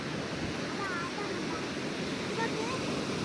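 Sea waves at Kozhikode beach, a constant broad wash of surf mixed with wind buffeting the microphone, steady and moderately loud throughout.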